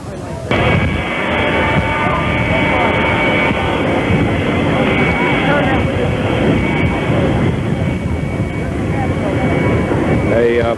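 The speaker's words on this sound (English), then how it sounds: "Now Air Force number 1 taxiing in." A loud, steady jet engine roar with a high whine persists throughout as Air Force One taxis slowly nearby at Dallas in 1963.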